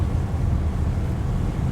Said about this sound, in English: Full throttle. We got twin engines, that's nice.